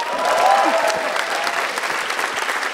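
A crowd claps steadily in a dense, sustained burst of applause, lively and fairly loud, with no speech over it.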